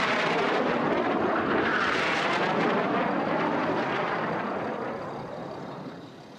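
Racing aircraft roar past at an air race, a loud, broad engine rush that swells early and then fades as the planes pull away, with no talk over it.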